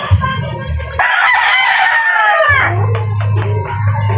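A Sweater gamefowl rooster, crossed with Gilmore, crows once loudly and close in a long rising call, with low clucking and farm noise before and after.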